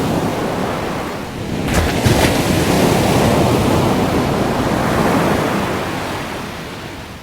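Ocean surf rolls in as a loud, continuous roar of breaking waves and wash, with gusty wind buffeting the microphone and no voices.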